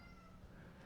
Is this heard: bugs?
no